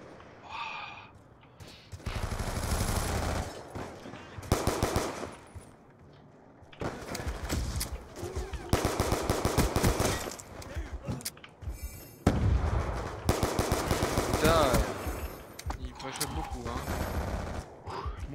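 Bursts of gunfire from the multiplayer video game Black Ops II, rapid automatic volleys in repeated clusters with a few booming shots, loud and close, alternating with short quieter gaps.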